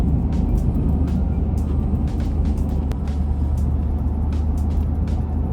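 A car cruising along back roads lined with moss-draped trees, heard from inside as a steady low engine and road rumble with no pauses and no talking.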